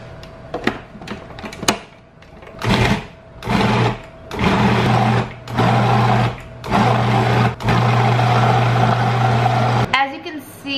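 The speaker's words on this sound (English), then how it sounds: "As you can see, I blended it pretty well" Kitchen blender mixing a cheese filling for Polish blintzes, several short whirring bursts after a few quick clicks, then longer pulses of steady motor drone separated by brief gaps, fairly close and loud.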